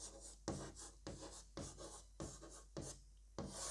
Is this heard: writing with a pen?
yes